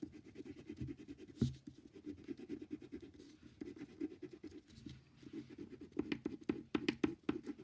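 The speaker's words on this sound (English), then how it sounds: "Then I'm going to color that in." Marker coloring in on paper, a quiet continuous scratchy rubbing with soft rhythmic strokes that quicken toward the end, close by and faint.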